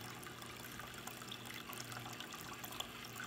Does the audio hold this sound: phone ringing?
no